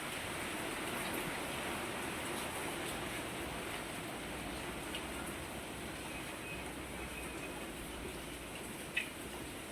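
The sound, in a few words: heavy rain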